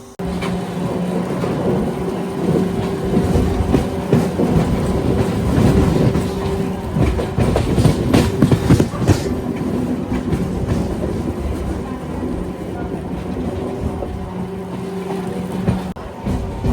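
A MEMU passenger train rolls into Raichur Junction station, its steady rumble and rail clatter sustained throughout at close range, with a constant tonal hum from the train.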